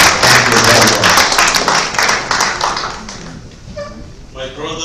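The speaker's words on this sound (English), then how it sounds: "A round of applause for him," A crowd claps and applauds loudly for a few seconds, the clapping thinning out and fading as a voice begins speaking over it.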